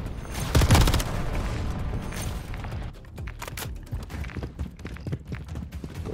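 Gunfire in Call of Duty: Modern Warfare III, with a loud burst of shots and a heavy boom early on, followed by scattered sharp reports and rattling combat noise that continues at a lower level.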